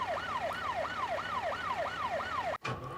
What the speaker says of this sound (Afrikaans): Ja, dit is 'n brandweerwa.